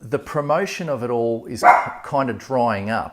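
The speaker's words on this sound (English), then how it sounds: "That's my dog deciding to go berserk while I'm trying to film a video." A dog barks sharply once in the middle while a person keeps talking over it, the bark loud and close.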